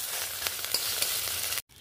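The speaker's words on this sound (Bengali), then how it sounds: "এখন সুন্দর করে ভেজে নেব। এই অবস্থায় যে তেতো ঘ্রাণ বের হচ্ছে" Neem leaves crackling and sizzling in a little hot oil as they crisp, a close steady fry with small pops and stirring ticks, ending in a sudden short silence.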